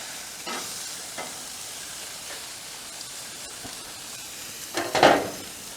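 Soft, steady sizzle of meat searing on a Weber grill, with faint crackles and a brief louder hiss and clatter near the end.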